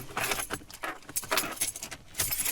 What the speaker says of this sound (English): I put my keys in the ignition, and I have to go.